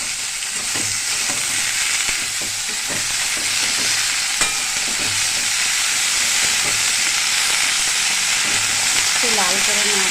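Blanched bottle gourd stems fry with potatoes in a hot pan, giving a loud, steady close sizzle broken by repeated stirring scrapes and knocks.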